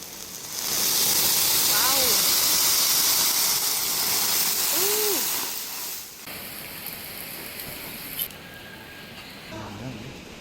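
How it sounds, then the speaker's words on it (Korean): Steam hisses loudly as ice hits a hot iron griddle, a broad rushing sizzle that holds for several seconds before easing off. Voices talk underneath and later over the quieter remaining sizzle. "철판 자체가 생명이어가지고 그게 수증기를 찌는 겁니다"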